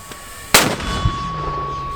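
One sharp, loud mortar firing blast near Bakhmut with a brief ringing tail and a lower thump just after, amid a faint steady hum.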